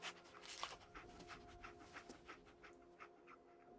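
Dogmeat, the dog in the Fallout 4 video game, pants in quick, rhythmic, faint breaths that repeat steadily with no voices over them.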